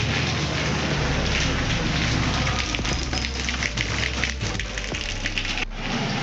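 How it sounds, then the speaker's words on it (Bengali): Heavy rain falls on the sea beach at Puri, a dense, steady hiss of drops that stays loud and even from start to finish. "দেখো কি বৃষ্টি পড়ছে।"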